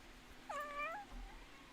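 A house cat lets out one clear, drawn-out meow, close and fairly quiet, over a faint room hum.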